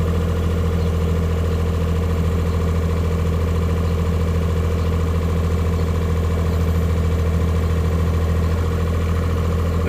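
A mini excavator's diesel engine runs steadily at a constant idle, a loud, close, even drone with strong low hum and no pauses.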